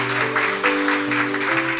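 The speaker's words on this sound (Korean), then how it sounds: "박수하겠습니다." Applause from a church congregation during an elder ordination at a tenth-anniversary service, a steady dense clapping with organ or keyboard tones sustained underneath throughout.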